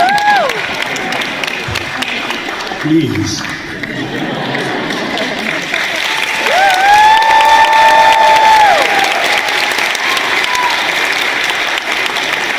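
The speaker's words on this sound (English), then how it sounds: "Applaud yourselves." Audience applause and cheering from a crowd at a film anniversary event, a steady broadband wash of clapping lasting throughout, with a voice speaking over it near the start and tonal voices rising above the crowd midway.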